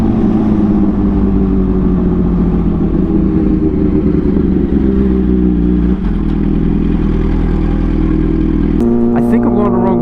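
A motorcycle rides up a mountain road, its engine holding a steady, loud drone throughout with a brief shift in pitch near the end, with wind buffeting mixed in.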